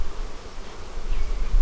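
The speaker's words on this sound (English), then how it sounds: "A lot of bees" Close, steady buzzing of many honey bees at an empty feeder bucket during a beehive inspection, a dense droning hum with no voices.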